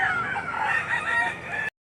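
A rooster crows loudly and nearby at a busy chicken market in Lipa City, Batangas, one drawn-out call that cuts off abruptly before a brief burst of sound.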